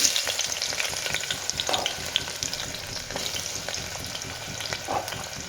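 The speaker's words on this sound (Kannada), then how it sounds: "ಇದಕ್ಕೆ ಈರುಳ್ಳಿ ಹಾಕ್ಕೊಳ್ತೀನಿ ಇವಾಗ" Onions frying in a pan for a home-cooked biryani masala: a steady, close crackling sizzle with occasional stirring scrapes, heard alone without any talking.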